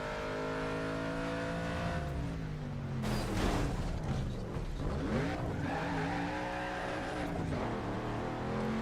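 A built-for-speed race car in Need for Speed: Underground 2 on PS2, its engine revving and shifting through gears with tire squeal and skidding, loud and close throughout.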